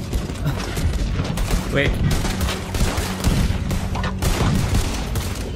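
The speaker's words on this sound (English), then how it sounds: "Come on, fire again. Rapid fire here." Loud, dense gunfire in Red Dead Redemption 2, a continuous rattle of overlapping shots and booms with a brief shouted word over the barrage.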